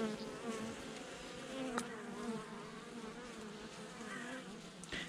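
Honeybee colony buzzing steadily during a November hive inspection, a dense close drone of many wings with a couple of brief sharper clicks, no voices.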